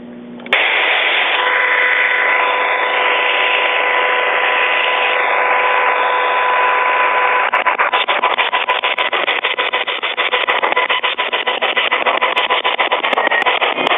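A spirit box radio sweeps through stations with a continuous loud hiss, a faint steady tone and quick stuttering clicks as it jumps between channels, running for about fourteen seconds.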